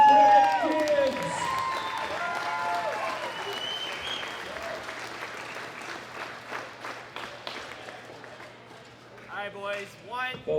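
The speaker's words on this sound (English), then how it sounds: "a big round of applause for Bret Gibbs" A crowd at the 2018 World Classic Powerlifting Championships applauds the men's 83 kg gold medal winner with loud, sustained clapping. A voice speaks at the start and again near the end.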